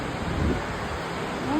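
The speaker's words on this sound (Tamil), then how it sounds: "மழை வந்துருச்சு." Steady rain falls in a dense, even wash outdoors, with gusty wind buffeting the microphone throughout.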